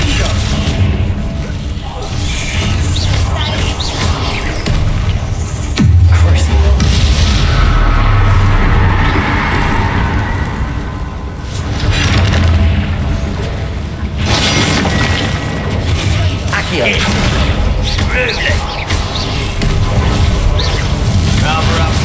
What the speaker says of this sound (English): Look at all that spell casting. Descendo.